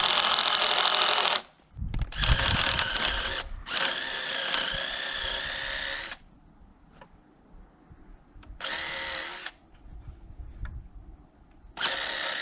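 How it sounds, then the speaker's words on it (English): Power drill driving into a wooden floor joist of an outhouse under construction, in loud whining bursts: a short one, two long runs, then a couple more near the end, with quiet gaps between. "Then we'll drill the joist in"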